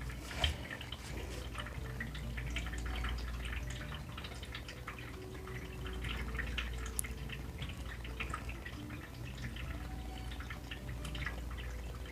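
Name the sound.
water for painting, brush in water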